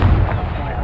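A Confringo spell blasts in Hogwarts Legacy, a short, loud, booming burst that fills the whole moment amid spell-combat noise.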